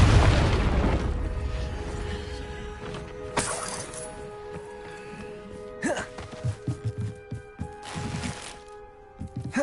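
A Confringo fire spell detonates in Hogwarts Legacy on PS5 Pro, opening with a loud burst that decays into a rumbling tail, then scattered crackling impacts and debris.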